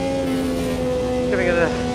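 A Brabham BT46B fan car's engine holds a steady high drone in Automobilista 2, loud and continuous with a brief rising tonal sweep near the end, while its harmonics stay layered throughout.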